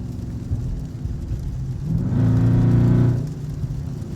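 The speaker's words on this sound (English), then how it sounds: "I don't think the camera can actually justify like how loud this car screaming right now" A catless Dodge Charger R/T being driven in the rain gives a low engine rumble that swells into a louder rising roar for about a second before settling back down.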